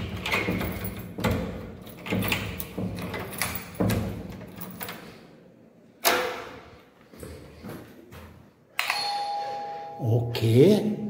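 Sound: ding-dong doorbell ringing at the front door

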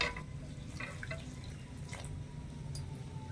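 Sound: lukewarm water poured into milk powder

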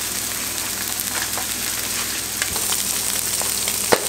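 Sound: butter frying in a pan with surf perch

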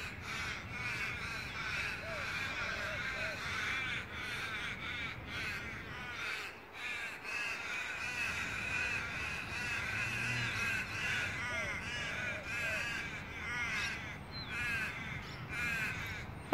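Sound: crows cawing

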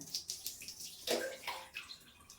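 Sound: water being poured over hair

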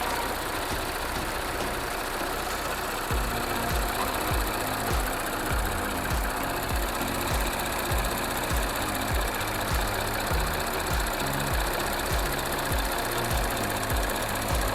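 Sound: car engine running in engine bay

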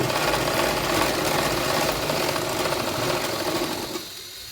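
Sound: sewing machine stitching a blouse

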